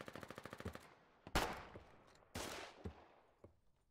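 Machine gun fire in a war video game: a rapid burst of evenly spaced shots, then two loud, sharp, booming single reports with decaying tails, and a few fainter pops. Nobody talks.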